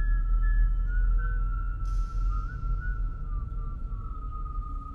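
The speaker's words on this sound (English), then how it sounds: "Make him whistle like a missile." Steady whistling in The Cursed Tape horror game, a sustained wavering tone that glides and warbles up and down, close and loud over a low rumbling ambience.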